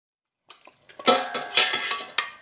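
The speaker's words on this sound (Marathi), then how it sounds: "आता आपण तयार केलेली सर्व भाजी या भांड्यात आपण काढून घ्यायची आहे" Cooked vegetables for a vegetable biryani are scraped and tipped from a pan into a cooking pot, giving close metallic clinks and clatters of utensil on pot that build over about two seconds.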